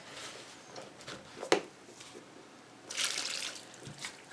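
Cement and water being stirred with a spoon in a throwaway container, giving faint wet scraping and sloshing sounds in quiet, with a brief clink and a louder swish near the end.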